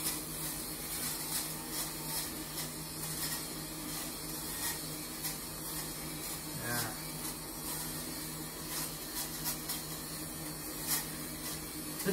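A fabric shaver runs over a sweater sleeve, giving a quiet steady motor buzz with a soft scratchy texture, close and continuous with faint fluctuations and no talking.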